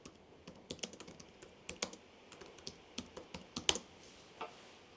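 Quick, soft keystrokes tapped in short uneven bursts on a computer keyboard while naming a folder, close and quiet with no talking.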